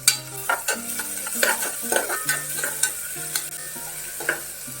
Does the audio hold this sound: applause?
no